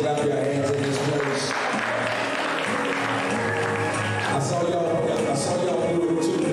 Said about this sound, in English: I need you to make some noise and clap your hands in this place.